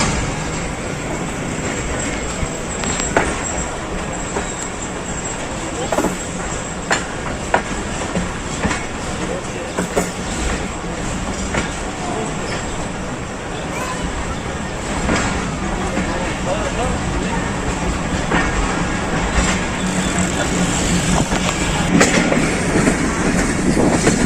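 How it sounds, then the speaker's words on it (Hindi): Pakistan Express passenger train running on rails near Hafizabad, a steady rumbling roar with rhythmic clickety-clack of wheels over track joints, heard from on board throughout, with a voice speaking over the continuous noise. "Six down Pakistan express 1 minute की ताख़ीर से हाफिज़ाबाद पहुंच रही है।"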